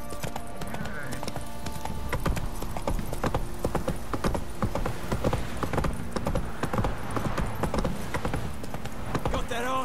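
Rapid hoofbeats of a galloping horse in The Witcher 3 clatter steadily up close, and a horse whinnies at times.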